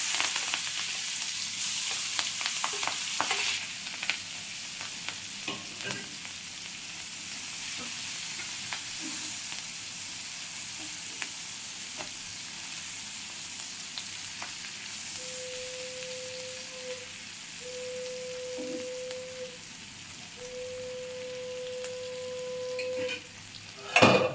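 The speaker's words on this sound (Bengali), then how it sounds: "এবার আমি পেঁয়াজ আর লঙ্কাটা দিয়ে দিচ্ছি" Onion and chilli frying in a pan for a spicy khoira fish curry, a steady close sizzle with scattered stirring scrapes and clinks throughout, a few brief tones near the end, no talking.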